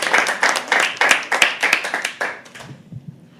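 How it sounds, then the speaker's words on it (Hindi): An audience at a live poetry open mic claps enthusiastically, a burst of close, fast hand claps that thins out and fades over about three seconds. "चलो एक बार जोरदार ताली से प्लीज स्टार्ट क्लैपिंग"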